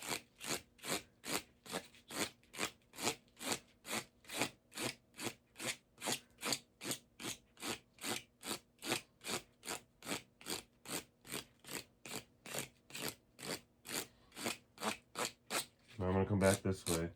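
Guitar frets on an Ibanez being rubbed with fine 220-grit sandpaper, a fast even back-and-forth scratching of about two strokes per second, close and steady, ending with a brief louder rustle.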